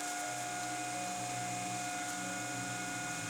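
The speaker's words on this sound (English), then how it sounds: "the printer is now lowering our build plate" A resin 3D printer lowering its build plate gives off a steady, quiet mechanical hum with faint motor whine, continuous and even throughout, with no voices.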